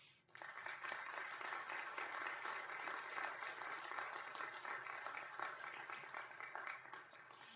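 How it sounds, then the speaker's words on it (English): Applause for student honorees at a school district board of trustees meeting: steady, dense clapping from a seated crowd that starts abruptly, holds evenly for several seconds, then tapers slightly. "And we applaud these young people for their achievement."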